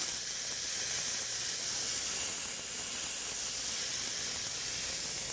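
Pineapple slices laid on a very hot grill sprayed with canola oil, giving a steady, even hiss of sizzling that holds at one level throughout with no talking.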